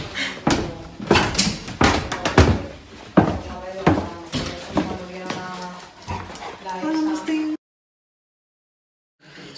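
A dog barks in short, sharp bursts at a rural holiday house in Ávila, the barks close and mixed in with people talking, before the sound cuts to near silence.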